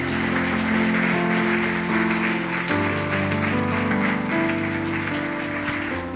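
A church congregation claps for the Lord during a worship service, a broad wash of applause blended with sustained musical tones from instruments playing underneath.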